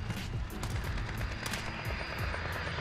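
Gunfire rattles in the Modern Warfare video game: dense, rapid automatic bursts and cracking shots fill the whole moment, loud and close, with overlapping rounds and little pause.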